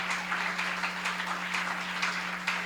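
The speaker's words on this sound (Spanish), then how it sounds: "Fuerte ese aplauso al Señor." A church congregation at an IPUC Pentecostal service applauds in a quick, fairly soft patter of many hands. A low steady electrical hum runs underneath, and no one speaks.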